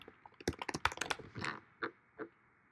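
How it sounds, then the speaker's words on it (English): Quick typing on a computer keyboard, a close burst of crisp key clicks that slows into a few separate presses, with no voice. "So you're going to type in Search Console."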